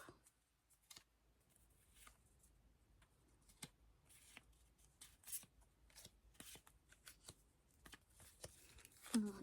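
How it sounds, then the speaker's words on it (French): A Panini Disney sticker packet is torn open by hand: quiet crinkling, rustling paper and short sharp rips in an irregular run, close and soft. "on ouvre notre deuxième pochette"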